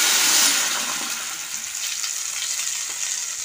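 Ground paste of onion, tomato, green chili and ginger sizzles in hot oil after whole cumin, a dense steady frying hiss that starts loudest and eases slightly, close up with no talking.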